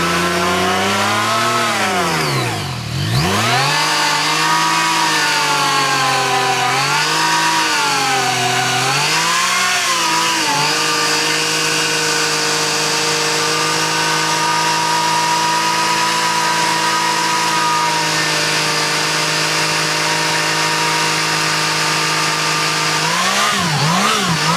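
Yamaha XSR900 motorcycle engine revving hard behind a shop during a rear-tire burnout, loud rising and falling revs early, then a long sustained high-RPM wail held close and alone.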